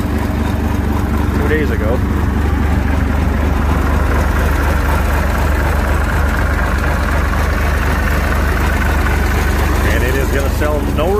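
The engine of a 2004 Deere 250 runs at a steady idle with a loud, constant low rumble throughout, while a voice speaks briefly over it.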